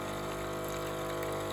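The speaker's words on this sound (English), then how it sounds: "So it's pumping steamy, hot water into there" A Krups Nescafe Dolce Gusto Oblo KP110 coffee machine pumps hot water, giving a steady, faint humming drone with a tonal whine and low churn, continuous and close, with no one speaking.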